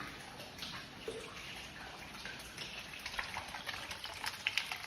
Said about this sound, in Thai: อันนี้เทศการปล่อยน้ำนะครับ